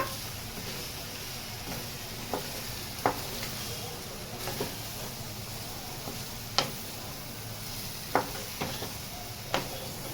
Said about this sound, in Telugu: ఇప్పుడు మనము బాగా కలిపేద్దాము నూనె ముక్క ముక్కకి తగిలినట్టుగా